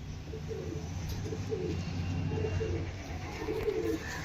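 Soft, low pigeon coos repeat in short bursts, several birds calling close by over a quiet background hum.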